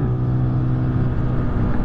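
A 125cc scrambler motorcycle engine drones steadily while riding, a loud, close, low rumbling hum holding an even pitch throughout.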